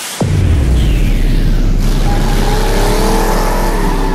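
A 2021 Toyota Fortuner SUV starts and drives off, a loud close engine roar kicking in abruptly and holding with rising, shifting tones as it accelerates, heavy low rumble throughout and no voices.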